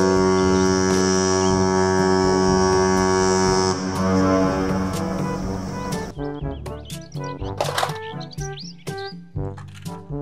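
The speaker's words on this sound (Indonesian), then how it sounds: "Kapal, pesiar." A cruise ship sounds a long, loud, deep horn blast that holds steady for several seconds, then fades and gives way to a string of short chirping tones.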